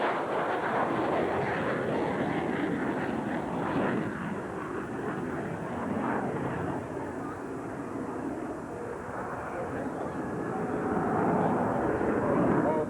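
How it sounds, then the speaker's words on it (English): An F/A-18 Hornet climbs over an airfield on full afterburner from its twin GE 404 engines, a loud, sustained, rumbling roar that swells again near the end. "Full afterburner being selected on the twin GE 404 engines. A maximum performance climb over the field."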